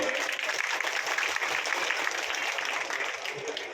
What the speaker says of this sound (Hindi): आदरणीय एसपी साहब का स्वागत करते हुए जोरदार तालियों से